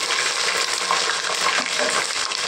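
Ginger-garlic paste and green chillies fry in oil in a pan for pulao masala, a loud, continuous close-up sizzle with faint stirring scrapes underneath.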